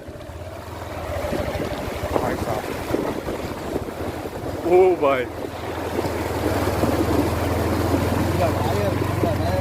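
A vehicle pushes through a flooded, waterlogged road with wind buffeting and sloshing water under a low engine rumble, while a man calls out over the noise.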